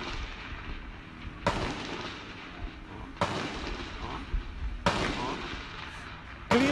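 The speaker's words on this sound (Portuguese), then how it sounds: "Disparos de fuzil." Several sharp, loud rifle gunshot cracks ring out at irregular intervals during a shootout in Cidade Alta, Rio de Janeiro, each a sudden burst over a steady background of noise and faint voices.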